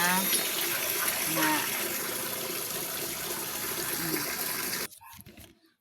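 A strong flow of running water gushes loudly and steadily up close, then cuts off abruptly near the end, with a brief voice.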